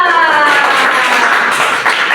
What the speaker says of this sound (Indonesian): tepuk tangan dulu tuh dia